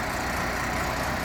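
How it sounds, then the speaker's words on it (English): Fire engines idling on a city street after a commercial building fire, a dense continuous rumble of diesel engines with broad roaring noise, steady and loud throughout, no talking. "the fire engines are still here"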